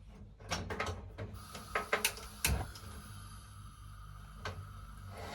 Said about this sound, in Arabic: دابا غادي ندوز ناخذ الفورنو، نشعل الفورنو